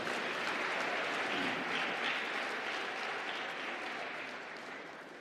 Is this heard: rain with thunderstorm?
no